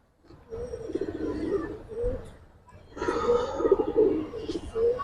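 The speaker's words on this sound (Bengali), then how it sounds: "কবুতর দুটা সাইজ অনেক বড় ভাই" A large pair of pigeons coo in two long, rolling bouts of throaty, close-up murmuring with a brief lull between them.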